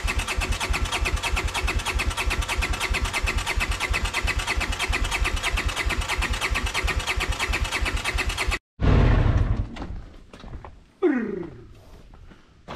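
An engine with a carburetor needing a rebuild is started and runs in a steady, rapid idle for several seconds, then cuts out abruptly, followed by scattered rattles and knocks.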